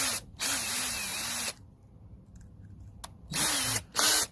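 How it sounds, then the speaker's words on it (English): A power drill whirs in two bursts separated by a quiet pause, the motor pitch wavering as the bit bites into wood; close and loud. "I'm going to see if I can drill straight through this."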